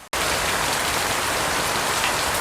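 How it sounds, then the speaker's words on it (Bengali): Heavy rain pours down in a dense, continuous roar close by, with steady broadband drumming on surfaces throughout and no voices. "দেখুন কি পরিমাণ বৃষ্টি হচ্ছে, মানে বলার বাইরে।"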